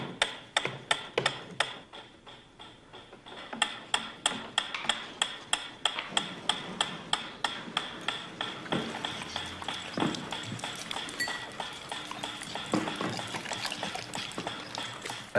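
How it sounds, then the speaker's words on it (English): A metronome ticking steadily, a regular train of sharp clicks repeating throughout at a moderate, even tempo, close and fairly clear over a faint background. "A ticking metronome."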